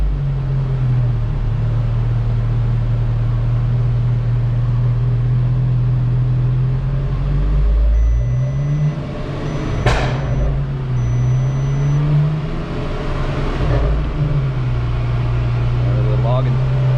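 An HPA K04 turbo MK6 VW GTI runs on a dyno for a tuning session, its engine droning steadily with a strong low hum, rising and falling in pitch, with a sharp transient near the middle as revs shift.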